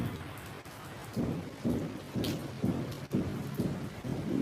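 Heavy rain pours steadily while thunder rolls in repeated low rumbles, loud and close throughout with no one speaking.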